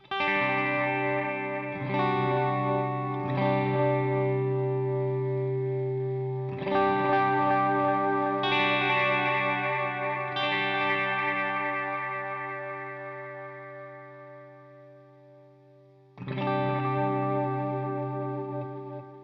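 Electric guitar notes through a J. Rockett Audio Designs Alien Echo delay pedal ring out with repeats trailing behind each one, sustained and washy, with several new chords struck over the decaying echoes.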